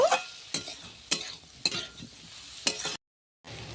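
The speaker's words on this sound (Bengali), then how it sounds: "ভালো করে মশলাটা একটু কষিয়ে নেব" Turmeric and chilli powder are fried and stirred in a pan for paneer butter masala, giving a soft sizzle broken by regular scraping strokes of a spoon, then a brief silent gap.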